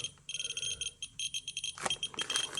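Terra MKS-05 dosimeter with Geiger counter clicking in rapid, regular bursts close to the device, joined by a shrill beeping alarm tone; the pulses quicken and become denser toward the end.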